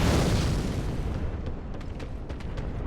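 A firebomb bursts in Dark Souls 3 on the High Wall of Lothric, a loud low boom at the start that fades into a crackling rumble with a few faint ticks at the end.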